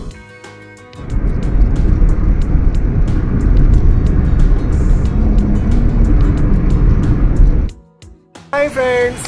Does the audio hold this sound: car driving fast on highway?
yes